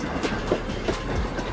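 A steam locomotive train, Thomas the Tank Engine, rolls along with a steady rumbling clatter and rhythmic wheel clicks, close and continuous.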